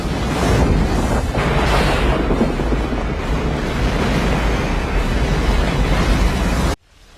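A huge cinematic explosion from the film Armageddon roars as a loud, sustained rumbling blast with debris-like noise for nearly seven seconds, then cuts off abruptly.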